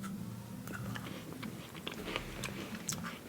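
Someone bites into a sablé shortbread biscuit that is not very crunchy, then chews it, giving several soft crisp crunches close up over a quiet room hum.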